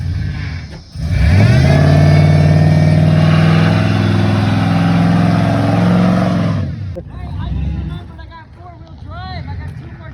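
Honda Accord or GMC Sierra 2500 doing a one-wheel-peel burnout: the engine roars up into a loud sustained rev for several seconds with tire squeal, then drops off as voices talk.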